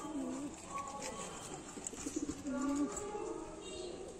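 Young pigeons at a pigeon seller's stall coo softly and close by. A few drawn-out, rolling coos are spread across a low indoor hum, with a short run of quick pulses near the middle.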